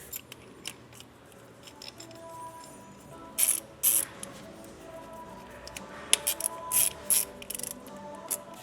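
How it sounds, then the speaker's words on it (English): Bolts on a big brake kit for an INEOS Grenadier are tightened with a hand tool, giving bursts of sharp ratcheting clicks close by over a quiet workshop background. "we're just going to tighten down these two little bolts on here, give that a crank tight"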